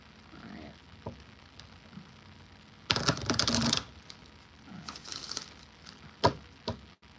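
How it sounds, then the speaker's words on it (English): Tarot cards being shuffled up close, giving dry papery riffles and bursts of rapid flicking between quieter taps, with one long loud burst in the middle. "let me just finish shuffling."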